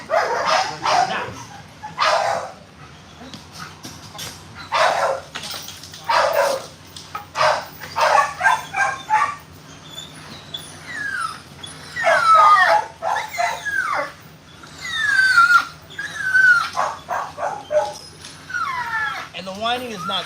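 A German Shepherd bite dog whines and yips in high, wavering bursts, with occasional barks, close by and loud against a quiet background, with pauses between the sounds.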